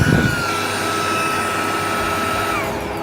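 Handheld vacuum blower running inside a car, a loud steady high-pitched whine with a whooshing airflow roar, continuous throughout and easing slightly at the end.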